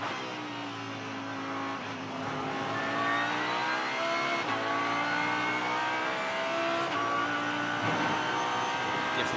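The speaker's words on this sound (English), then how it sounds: "Different sound with this Lamborghini compared to that Mercedes in front of him." A Lamborghini V12 GT race car engine at speed during the Indianapolis 8 Hour GT World Challenge race, a loud sustained onboard engine note that rises steadily in pitch as it accelerates, with no talk over it.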